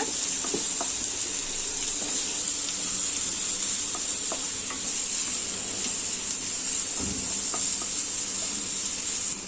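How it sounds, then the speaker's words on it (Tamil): Chicken and a large chopped onion sautéing in a pan for spring roll filling, a loud continuous sizzle and hiss close by with scattered stirring clicks throughout. "ஒரு பெரிய வெங்காயம் கட் பண்ணி வச்சிருக்கேன். அதை சேர்த்துடலாம். சேர்த்துட்டு நல்லா வதக்கி விட்டுடலாங்க."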